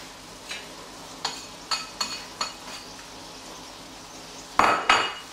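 Previously cooked onions are tipped from a utensil into whisked eggs in a large bowl for a Spanish vegetable omelette: a string of light clinks and taps, then a louder clattering scrape near the end.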